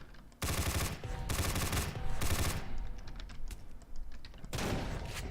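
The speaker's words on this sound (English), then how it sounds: "taking out the riot zombies with the Scorpion" Scorpion gun from the video game Dread fires at riot zombies in rapid automatic bursts, loud and close, with three sustained volleys broken by short pauses and scattered impact clicks.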